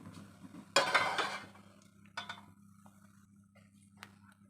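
A metal pan set down on a kitchen stove just switched on for making egg bhurji, giving a loud clattering knock, a second lighter clink a moment later and a faint tap near the end, over a steady low hum.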